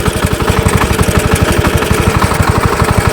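A motor tractor built from a motoblock (walk-behind tractor) runs with its clutch engaged, its small engine loud and close, chugging in a fast, steady pulsing rhythm throughout.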